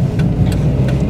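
A 1994 Dodge Neon spinning one wheel on an icy road, a loud, steady low engine drone with a faint higher whine, close and continuous for a brief moment.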